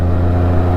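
Honda Goldwing motorcycle engine on a mountain road, a steady low mechanical hum with a strong deep tone, heard briefly and close.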